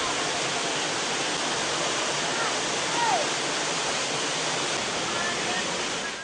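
The Kota Manna waterfall pours in a constant, dense hiss of falling water, loud and close, unbroken for the whole stretch.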